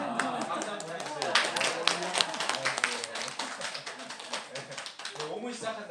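An audience claps at a church Christmas service, scattered sharp hand claps running through loud, overlapping chatter and voices that dominate throughout.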